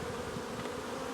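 Honeybees in a hive nucleus give off a steady, dense buzzing hum that stays even and close throughout, with no voices.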